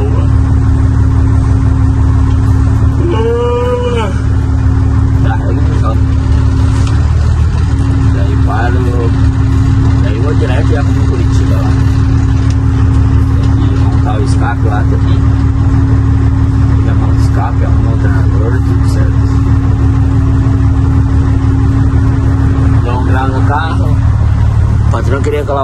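A loaded truck's diesel engine idles steadily with a constant low hum as the driver pulls away, with brief voices and clanks over it.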